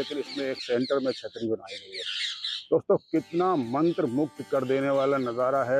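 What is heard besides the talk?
parrots squawking at Purana Qila fort, Delhi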